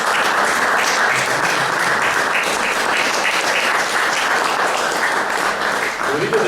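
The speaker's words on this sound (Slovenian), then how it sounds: "ki jih z aplavzom pozdravimo" Sustained applause from an audience at an evening talk about faith and God's love, welcoming three guests; dense, even clapping fills the whole stretch without speech on top.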